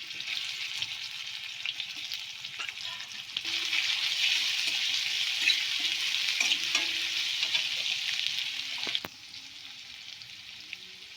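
Garlic paste and chopped onion fry in a pan with a steady bright sizzle that grows louder partway through and then drops off. A few light stirring clinks are heard and no one speaks.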